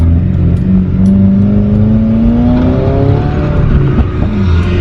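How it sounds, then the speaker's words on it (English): A Subaru WRX with a custom signature Magnaflow exhaust accelerating, a loud close engine note climbing steadily in pitch through the revs with a throaty exhaust drone, heard from inside the car without talk. "I love this exhaust."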